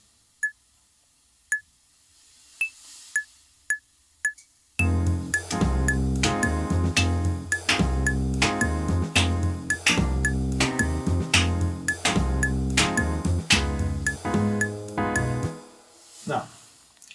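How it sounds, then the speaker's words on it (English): A few sparse high clicks open, then a full band enters: piano chords in a lilting triplet pulse over bass and steady drums, ending with a fade. "I kept the piano playing half-note triplets"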